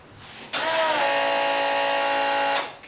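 Starter cranks the Vortec 4200 engine in a Ford Fairmont Futura, a loud, steady whirring drone that starts abruptly, holds for about two seconds close by, then winds down without firing.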